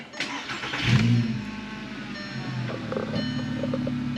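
A Volkswagen MK5 car engine cranks and catches with a short rising rev near the start, then settles into a steady idle hum that continues to the end.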